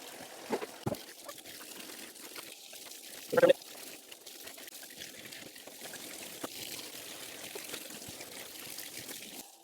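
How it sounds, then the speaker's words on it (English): Warm water runs steadily into a bathtub while synthetic fabric is being dyed, a low, even hiss with a brief louder splash partway through. "got some warm water going on"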